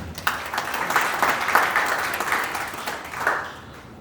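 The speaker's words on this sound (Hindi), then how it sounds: "उस व्यक्ति के लिए आपको जोरदार ताली से स्वागत करूंगा।" A seated crowd at a product presentation claps in welcome, steady moderately loud applause with scattered sharper hand claps standing out across the few seconds.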